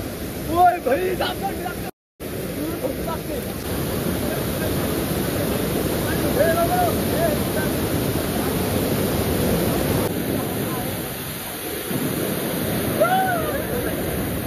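Lal Thane waterfall at Saphale pours in a steady, loud broadband rush that runs almost unbroken, with voices from people playing in the water faintly mixed in.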